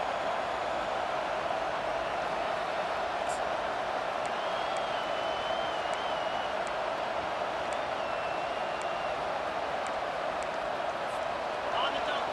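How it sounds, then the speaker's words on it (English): A steady stadium crowd roar rises during a red-zone defensive stand in the EA Sports College Football 25 video game, a loud continuous wash of cheering with a commentator talking over it. "the crowd coming to life here, trying to help this defense down in the red zone"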